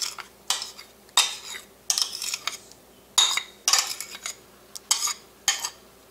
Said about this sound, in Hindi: मेयोनीज वगैरह डाल के मिक्स कर लें